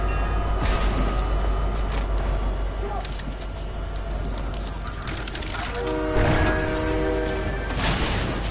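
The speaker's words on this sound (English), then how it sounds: "I might hop on the train here." A train in a video game rumbles along with a continuous heavy mechanical roar, scattered metallic clanks and a sustained tonal whine late in the passage, loud and close.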